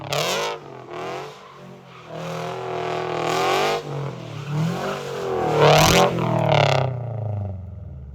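A Toyota GR86 drifting, its engine revving hard with sweeping pitch rises and falls and tire noise over several passes, loud and close, no talking.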